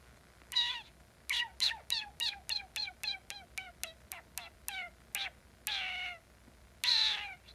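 A person imitates a cat's meow with their lips: a quick run of short, squeaky mews in a steady rhythm, ending with two longer drawn-out calls.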